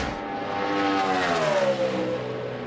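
NASCAR race car on a practice qualifying run, its engine droning loud and steady with a pitch that rises and then falls as it sweeps past.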